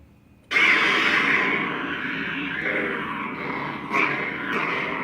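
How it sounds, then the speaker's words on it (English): A lightsaber sound font called Wind ignites in a powdercoated SF Bastion hilt fitted with an NBv3 board: a sudden loud whooshing surge, then a steady airy, breathy hum with a sharp swell near the end, with no voices. "the other sound font is Wind, so you can hear the boot up"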